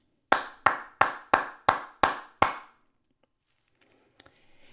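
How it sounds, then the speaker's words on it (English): Seven evenly spaced one-handed claps, fingers striking the palm in a steady rhythm, crisp and close in a quiet room, followed by silence and a faint tap. "if you use your fingers over your palm, you will get a consistent sound"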